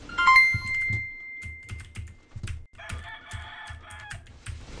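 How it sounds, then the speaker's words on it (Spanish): A rooster crows twice, a bright, drawn-out call that opens the clip and returns midway, heard alongside a steady run of soft tapping clicks. "Botón, calla tu gallo."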